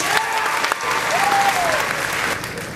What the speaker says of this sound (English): Would you all join me in a round of applause for these people that have helped your child get to this day?